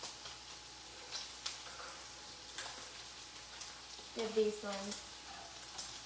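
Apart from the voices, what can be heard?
turkey bacon frying in a pan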